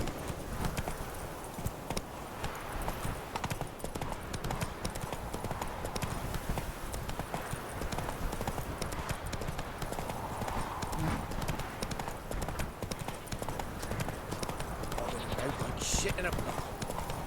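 The horse Roach from The Witcher 3 trotting with continuous rhythmic hoof clip-clops on the ground, a steady in-game gait under people talking and laughing.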